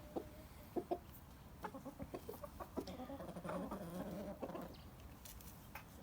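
Bielefelder hens and rooster clucking nearby in a run of short, irregular calls that swell into a busier cluster before trailing off, fairly quiet overall.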